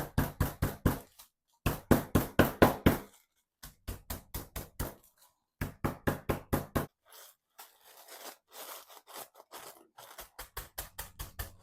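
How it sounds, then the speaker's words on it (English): Graham crackers are crushed in a home kitchen, a close series of sharp, rapid crunching knocks in bursts with short pauses between, the later ones softer and more scattered. "And then I'm going to crush my graham crackers."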